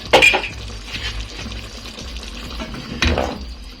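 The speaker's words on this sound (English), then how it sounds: "I'm going to add in some more water," Water is poured into a cooking pot holding a thick base, giving short splashing pours at the start and again near the end, with faint clinks of cookware between.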